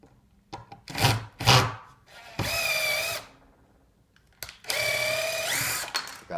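A power drill drives screws through plywood spacer blocks into a gate's mounting holes, with short bursts of whirring that rise in pitch as each screw seats, separated by quiet handling noises.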